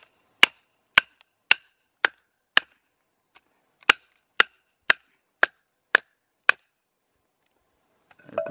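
A TOPS FDX 17 mini axe chopping into wood, delivering about eleven sharp, evenly spaced strikes in two bursts, close and loud against silence, with faint rustling at the end.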